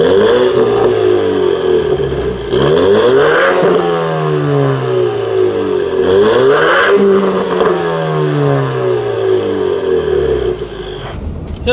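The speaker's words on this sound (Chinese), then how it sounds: "这套 Bora 排气，大家也不知道是不是真的，踩两脚给你们听一下" A used Ford Mustang with a Borla aftermarket exhaust revs hard twice, each blip rising and falling in a loud, close, throaty roar over a steady idle rumble, with a brief clatter near the end.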